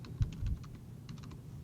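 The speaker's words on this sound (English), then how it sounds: "type in my password" A password typed on a computer keyboard: two short bursts of light, quick key clicks separated by a pause, close and fairly quiet over a low steady hum.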